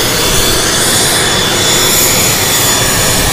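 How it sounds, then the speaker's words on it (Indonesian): A passenger airplane's jet engine roars loud and close, a dense, steady broadband rush with a faint high whine, continuous throughout with no talking. "Pesawat."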